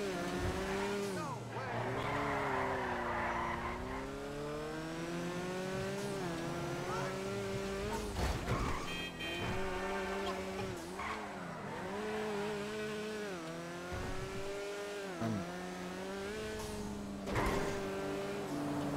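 A cardboard-bodied car in GTA Online drives and skids continuously, with steady engine drone, shifting revs and tire squeal throughout, loud and close.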